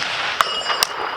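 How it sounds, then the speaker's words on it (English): A PSA M110 SASS clone semi-automatic rifle fires at a steel target about 240 yards away. A sharp report is followed a split second later by a bright metallic ping over a steady hiss of background noise. "Let's take a shot, see if we're on steel."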